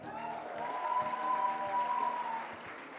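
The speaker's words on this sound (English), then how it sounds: "Big round of applause for Switzerland." Audience applause for the Switzerland delegation at the IPSF World Congress 2019 opening ceremony in Kigali, a steady wash of clapping from a crowd with a sustained tone running underneath, moderately loud throughout.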